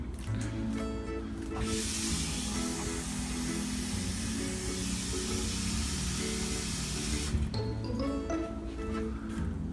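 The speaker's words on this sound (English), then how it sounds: "So I'm going to fill this up with water." Tap water pours loudly and steadily into a container at a kitchen counter, a dense close hiss that runs for several seconds before cutting off.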